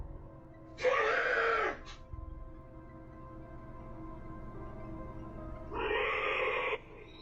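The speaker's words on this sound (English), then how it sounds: "That scream does not sound human." Two loud, harsh screams, each about a second long, separated by a few seconds of low droning hum; the cries sound strained and unnatural.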